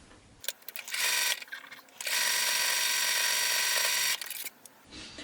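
Home sewing machine running a decorative stitch on quilted coat-scrap fabric for a vest, sounding as two bursts of steady, close mechanical whirring with rapid needle clatter, separated by a short pause and quieter handling noises.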